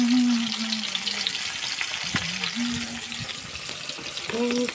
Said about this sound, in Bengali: তো পারফেক্ট আমার মাছ ভাজাটা হয়ে ফাইনাল।